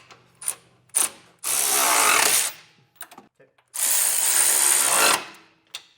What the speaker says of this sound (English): We're gonna snug everything down with a 3/4 inch socket.